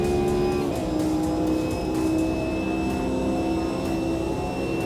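Race car in a sim racing game pushed hard through corners, engine droning loudly throughout with a high, sustained tyre squeal layered over it.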